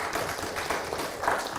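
Audience applause at a youth leadership forum, a moderate, steady patter of many hands clapping in a room, with soft swells and no voices over it.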